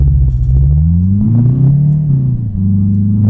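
Engine of a Mercedes 190E car mod in the video game American Truck Simulator, a loud close droning rumble whose pitch climbs, dips and climbs again as it revs through the gears.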